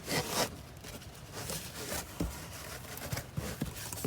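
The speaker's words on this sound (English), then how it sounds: "Just gonna put it in a Ziploc bag." A container for a DIY succulent arrangement is slid into a Ziploc bag, giving close plastic rustling, rubbing and a zipper-like scrape over a few seconds with no talking.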